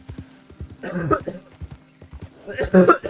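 Horse hooves clip-clop at a steady walking rhythm in the video game Red Dead, from a heavily loaded horse near Saint Denis. A voice talks over the hoofbeats in louder bursts.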